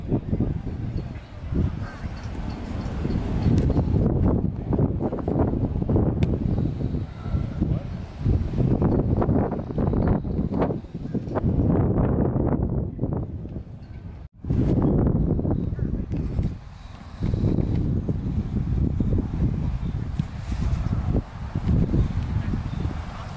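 Loud wind buffets the microphone in continuous rumbling gusts, with a brief break midway and low muffled noise throughout.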